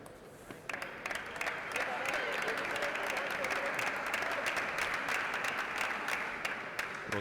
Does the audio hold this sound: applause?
yes